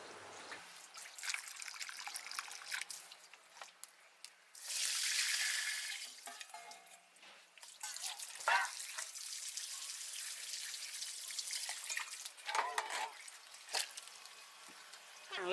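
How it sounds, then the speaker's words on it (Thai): Pickled bamboo shoots are rinsed in water, with faint splashing, trickling and dripping in irregular bursts, including one longer rush of running water partway through. "เขาก็จะเอามาล้าง ล้างน้ำเนาะคะ"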